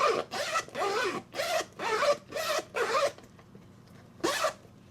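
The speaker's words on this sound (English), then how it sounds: "you know me, I got to do the zipper test" Zipper on a leather handbag zipped open and shut in six quick, close rasping strokes with short pauses, then one final pull after a brief quiet gap.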